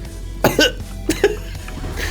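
Ressa Snessa, the miracle alchemist character in the Leximan video game, gives two short coughs about half a second apart, close and distinct over a quiet game background, followed by a faint softer cough.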